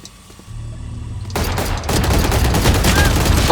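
Gunfire in Valorant: after a quiet moment a sudden burst of rapid automatic shots erupts and continues as a dense, loud, sustained rattle up close.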